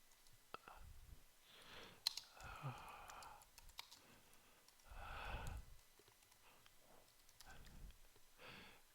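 Quiet clicking of a computer keyboard as C++ comments are typed, with scattered sharp key taps in bursts, interrupted by soft breathy sounds and faint murmured speech.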